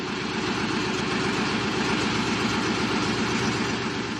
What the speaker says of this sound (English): The engine must start and the fuel tank must be full.